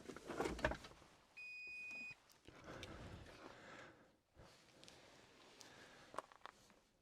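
Electronic beeps from a BMW X5 while its battery, located under the spare wheel in the boot floor, is being charged: a sustained tone near the start amid clunks and handling noises, fairly faint, with no speech.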